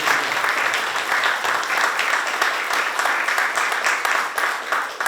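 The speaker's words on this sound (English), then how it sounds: "Let's give it a round of applause." An audience at a lecture claps steadily and continuously, a dense wash of applause at full volume throughout.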